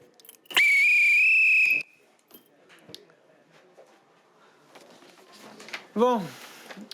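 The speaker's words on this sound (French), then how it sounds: "Quand je siffle une fois, c'est la garde rapprochée." One loud, sustained whistle holds a steady high pitch for about a second, then quieter shuffling follows and a brief voiced squeal.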